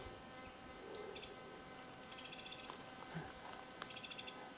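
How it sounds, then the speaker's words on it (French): A Eurasian wren sings outdoors in a few rapid, bright trilling bursts, fairly faint and distant over a quiet background hiss. "On entend le troglodyte mignon qui chante."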